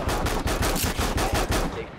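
Rapid bursts of video game gunfire, mixing automatic fire with shotgun blasts, pound steadily in a loud, dense rhythm for the whole stretch, with no talking over them.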